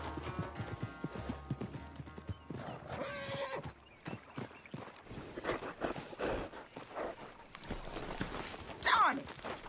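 Horse hooves clop and a horse whinnies amid other game sounds during a horse race in Red Dead Redemption 2, with a voice talking over parts of it.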